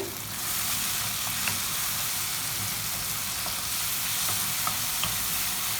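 Tomatoes sauté in a hot pan for a chickpea gravy, giving a steady, close sizzling hiss with faint occasional stirring clicks, no voices over it.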